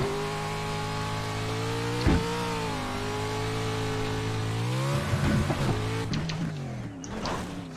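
A race car engine from the Pro4 racing game screams through a lap, holding a steady high whine that dips and climbs with gear changes and corners, with a few sharp mechanical bursts near the end.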